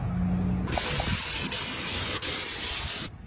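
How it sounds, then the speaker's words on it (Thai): Anti-rust sound-damping undercoating sprayed onto the underside of a car, one loud continuous close hiss of spray starting abruptly and running for over two seconds with two tiny breaks before cutting off. "ก่อนที่เราจะไปทำพรีเมียมันเดอร์โคตติ้งเดมปิ้งสเปรย์นะครับ พ่นกันสนิม สูตรเก็บเสียงทำเพียงหนึ่งปกป้องถึงสองนะครับ"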